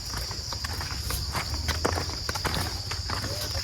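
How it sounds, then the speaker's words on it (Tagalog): A pet horse walks on a rural property where wood is being prepared for a hut, its hooves clip-clopping in a steady, moderately close rhythm against a constant insect-like hiss. "Dito din yung aming alagang kabayo."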